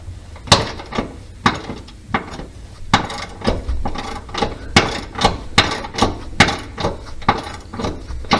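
A ratchet tightens a new subframe bolt on a Mk6 Golf in repeated clicking strokes, each burst marked by a sharp metallic snap, close by and rhythmic with no talking.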